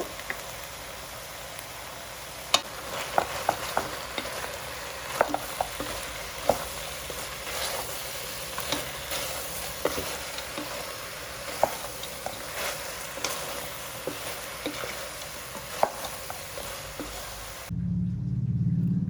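Ginger garlic paste fries in a pan for a country chicken curry, a steady close sizzle with scattered light pops and stirring clicks, no voices, ending in a brief low rumble.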